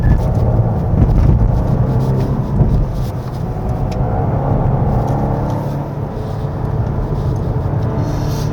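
A 2024 Volvo S60 B5 front-wheel-drive sedan accelerates along a winding road, giving off a loud, steady low engine and road rumble that swells early and then holds even from inside the cabin, with no talking.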